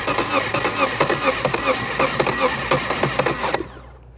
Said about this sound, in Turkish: Hemen şöyle marşa basacağım.